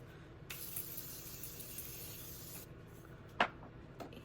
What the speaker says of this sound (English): And that's just like a setting mist.